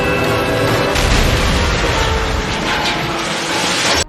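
A train in a TV episode rumbles past with a heavy, loud roar, a sudden surge of rattling noise and booming bursts partway through, sustained for about four seconds before cutting off abruptly.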